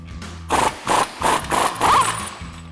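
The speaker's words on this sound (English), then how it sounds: "I'm gonna grab my 1/2 inch impact and a 36mm socket and take our nut off" A 1/2-inch impact wrench with a 36mm socket removes the axle nut on a 2007-2018 Chevrolet Silverado 1500 during a CV axle swap, sounding as five close, loud hammering bursts in a steady rhythm.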